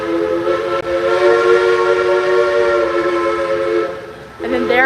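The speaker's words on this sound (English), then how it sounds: "then there goes that train." A sustained, loud steam train whistle sounds at Silver Dollar City theme park, holding for about four seconds before a short second blast, with the train rumbling close by.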